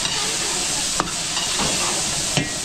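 Garlic and onion frying in a pan, a steady bright sizzle throughout with a few soft stirring scrapes, fairly close and alone.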